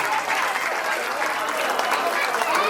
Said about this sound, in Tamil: கைத்தட்டி ஆதரவு தெரிவிக்குமாறு கேட்டுக்கொள்கிறோம்.